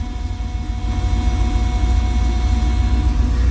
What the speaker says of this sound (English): that fuel pump is screaming its last hurrah.